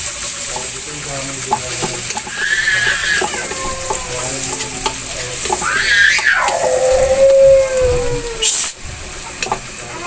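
Chopped garlic sizzles steadily in a hot pan, a loud continuous hiss close by, with faint voice-like tones and brief clatter over it.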